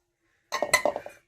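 Semolina tipped into a steel mixer jar for rice-flour papad, giving a short burst of light clinks and clatter for under a second, close by, with no talking.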